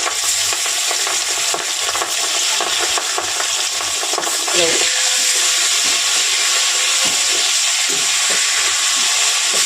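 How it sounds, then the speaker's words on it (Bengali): Pieces of boal fish fry in hot oil, giving a steady, loud, close sizzle that runs the whole time, with a brief stir or shift partway through and no talking. "এই মাছগুলো ভাজা হয়ে গেছে।"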